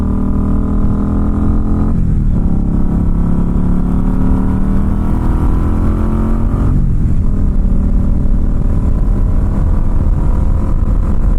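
Indian Scout Bobber Sixty ABS motorcycle engine pulling hard onto a highway, a loud steady drone with two brief gear-change dips as the revs climb again, wind rushing throughout.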